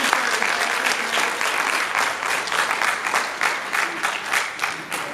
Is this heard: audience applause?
yes